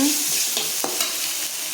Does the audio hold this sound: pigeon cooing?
no